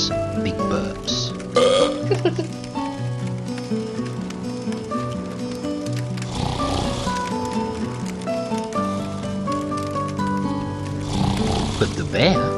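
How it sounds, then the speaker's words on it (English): Big exaggerated burps, several loud belching sounds rolling one after another with a short gap, accompanied by background music. "burps big burps."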